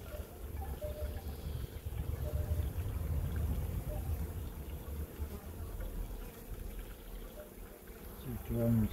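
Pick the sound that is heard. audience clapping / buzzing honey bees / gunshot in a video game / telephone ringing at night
buzzing honey bees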